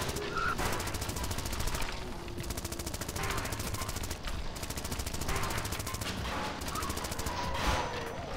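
Rapid machine gun fire rattles continuously from a vehicle in Zombie Driver, a dense stream of sharp rounds in long bursts with brief pauses, moderately loud over engine and game noise.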